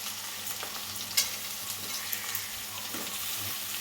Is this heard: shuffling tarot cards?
no